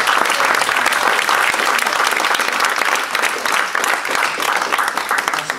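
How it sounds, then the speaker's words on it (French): Sustained audience applause fills a hall at a round-table event, dense and steady clapping from many hands, loud and close, with no voices over it. "On peut l'applaudir"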